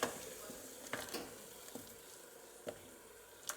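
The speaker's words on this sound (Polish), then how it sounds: "Spójrzcie, solidnie się tutaj gotuje, ale ja wyłączam już, poczekamy aż się uspokoi" Tomato fish soup boiling hard in a pot gives a quiet, steady bubbling, broken by occasional sharp pops and ticks from bursting bubbles. No one talks.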